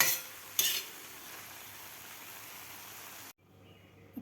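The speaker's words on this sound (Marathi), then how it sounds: "आपल्याला 1 ते 2 मिनिट आपल्याला हे परतून घ्यायची आहे भाजी" Ambadi (roselle leaf) greens are sautéed in a pan: a steady, close sizzle with a couple of stirring scrapes, then the sizzle cuts off abruptly near the end.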